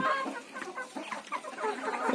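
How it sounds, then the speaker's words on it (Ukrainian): Chickens cluck softly and continuously, a small flock murmuring close by with a few sharper calls. "Значить, випустила я курочок."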